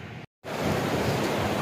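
Natural spring water from a mountain chashma near Shandur Top flows in a steady, dense rushing wash after a short silent gap.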